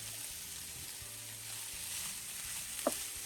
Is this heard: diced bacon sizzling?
yes